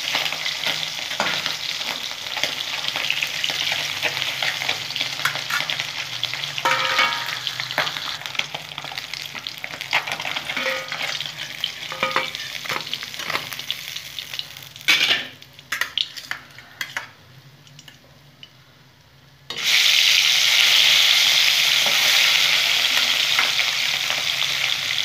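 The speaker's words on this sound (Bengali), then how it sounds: "আমি লাল লাল করে সব মাছগুলো ভেজে নেবো উল্টো পাল্টে" Boroli fish sizzle loudly in hot oil with irregular scrapes and clinks of a utensil turning the pieces, then the frying drops away briefly before a louder, brighter hiss surges back as more fish go into the pan.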